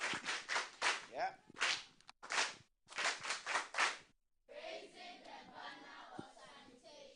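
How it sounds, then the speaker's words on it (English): An audience claps together in loud, rhythmic bursts with short pauses between them, then the sound turns into a looser wash of crowd noise. "Give us the sanitation clap."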